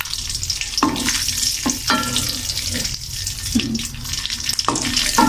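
Vermicelli frying for jorda semai, a continuous close sizzle broken by several sharp scraping stir strokes at irregular intervals, loud and without speech.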